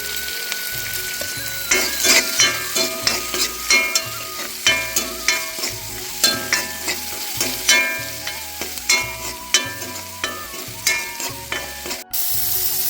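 Ingredients for a Kerala-style potato stew sautéing in a pan, with steady sizzling and frying broken by a regular rhythm of spoon scrapes and stirring knocks, close and fairly loud throughout; no voices.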